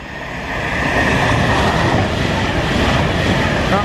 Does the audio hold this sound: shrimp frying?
no